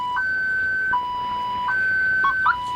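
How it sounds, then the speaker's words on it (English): A car alarm cycles through steady electronic tones, alternating higher and lower pitched beeps with brief chirps, repeating in a regular pattern, clear and alone over faint background hiss. "don't you know it's impolite to interrupt your car alarm when it's talking to you?"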